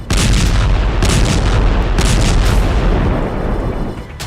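Russian phosphorus bombs explode in a loud, sustained barrage of booming blasts and crackling bursts, the roar surging in waves and fading slightly toward the end.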